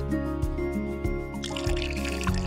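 Water runs into jugs with a steady liquid fill, marked by soft drips and a rising pour toward the end. The sound is fairly close and quiet, with no talking.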